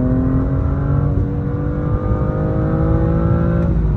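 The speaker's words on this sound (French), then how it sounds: "On sent en plus que le bruit vient vraiment de l'avant, genre le bruit du moteur." Loud BMW N55 engine revving with heavy intake roar, a continuous dense drone that holds near and steady for the whole stretch with no talk over it.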